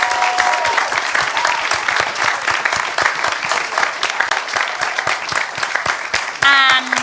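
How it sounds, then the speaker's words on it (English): An audience gives a panel discussion on protecting the oceans, at a One Young World event at COP26, steady, loud applause, dense clapping that carries on throughout, with a brief electronic tone near the end. "just like to have a massive round of applause for our panellists"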